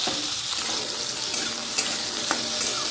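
Mustard seeds fry in a pan with a continuous close sizzle and a few faint pops and scrapes.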